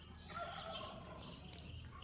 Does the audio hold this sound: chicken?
yes